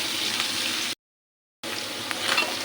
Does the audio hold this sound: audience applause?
no